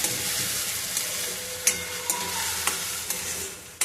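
Steady sizzling of a Rajasthani chili mixture frying in a pan, with a few scraping clicks as it is stirred; close and fairly loud, no voices.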